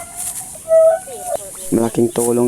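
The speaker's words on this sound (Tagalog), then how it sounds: "daming manok dito" Chickens cluck and crow around a hillside rice farm during the palay harvest, their calls close and loud in short bursts, with several birds overlapping near the end.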